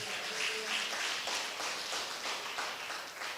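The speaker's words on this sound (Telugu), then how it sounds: "గట్టిగా చప్పట్లు కొట్టండి." A church congregation claps together, a dense, sustained wash of many hands at moderate distance with a rhythmic pulse running through it.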